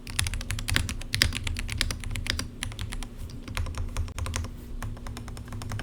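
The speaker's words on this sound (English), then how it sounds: "This is the most satisfying sounding keyboard I've ever owned." Typing on a NYXI Striker retro mechanical keyboard styled after a gaming console, a quiet, close run of crisp clicky keystrokes in uneven bursts with short pauses, no voices.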